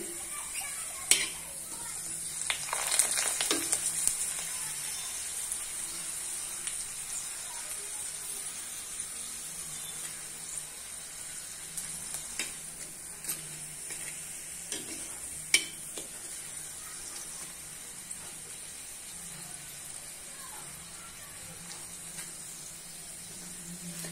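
Papad frying one at a time in a small amount of oil gives a faint, steady sizzle with occasional light crackles and stirring clicks, and quiet talk can be heard now and then.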